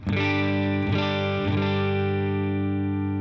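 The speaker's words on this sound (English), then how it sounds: "there's less distortion going on now, because we're not sending as much signal to the front end of the amp" Electric guitar played through a Headrush rig into an amp with a slight edge of distortion, three strummed chords ringing out and sustaining evenly, loud and close with no talk.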